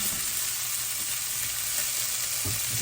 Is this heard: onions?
yes